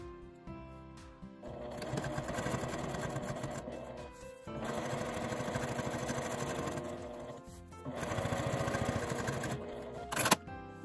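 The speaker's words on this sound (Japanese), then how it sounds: "向きがある時はこのように表向きにして山のところに端ミシンをかけます。" A sewing machine edge-stitches along the folded edge of fabric for a lined round tissue-box cover, running in three steady whirring bursts separated by brief pauses, close and loud, ending with a few small clicks.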